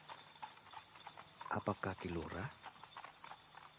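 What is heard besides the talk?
horse-drawn carriage hooves clip-clopping at night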